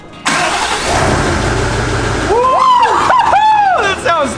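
A tuned Nissan Titan XD truck engine cranks and catches, settling into a loud steady idle, then revs up sharply twice with rising and falling sweeps, heard close in an enclosed space.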